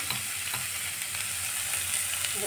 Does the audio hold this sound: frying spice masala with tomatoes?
yes